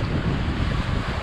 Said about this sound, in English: there's a bit of wind coming